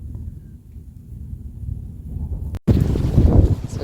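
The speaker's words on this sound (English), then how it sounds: "Come here, it's so windy." Strong outdoor wind of around 46 km/h buffeting the microphone with a low roar, rising sharply into heavier, louder gusts after a brief dropout.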